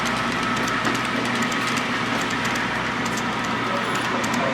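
A model train runs on a layout at a crowded club funfest, its rolling mechanical rumble and faint clicking steady under general hall noise, with a few light ticks and tones scattered on top.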